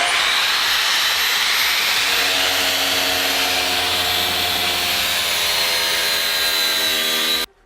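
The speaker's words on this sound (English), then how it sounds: "The rear quarter panel is about to have a grinder taken to it for the second time" An angle grinder bites into the rear quarter panel of a BMW M240i, a steady high-pitched metallic whine with a rasping edge that holds for about seven seconds, then cuts off abruptly.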